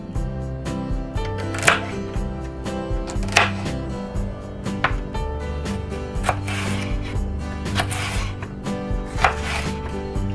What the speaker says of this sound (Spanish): Continuamos picando ahora el apio.